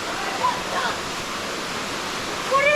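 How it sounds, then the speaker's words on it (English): Steady broadband rush of a waterfall heard from a distance at the end of a rocky bush walk along the Gibb River Road, a constant wash with a few faint bird chirps on top. "I can just get glimpses of the waterfall."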